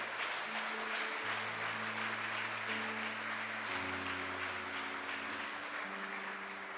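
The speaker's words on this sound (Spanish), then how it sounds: "Dele un aplauso al Señor." A congregation at a church service applauds steadily, the clapping distant and soft under sustained organ or keyboard chords.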